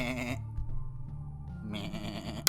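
Someone imitates a sheep with a drawn-out nasal bleat, a single held voiced cry that rises and wavers before it cuts off, with a brief click at the very end.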